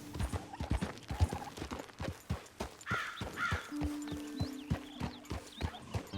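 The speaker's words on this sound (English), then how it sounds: "you can hear the horses, all the wildlife around" Horse hooves clip-clop at a steady walking rhythm in the Red Dead Redemption video game, with crows cawing and other wildlife calling around them in an open outdoor setting.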